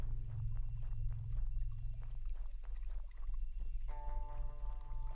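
River water flows and trickles steadily in a video game, a continuous close rush under a low droning soundtrack, with a tonal game chime near the end and no talking.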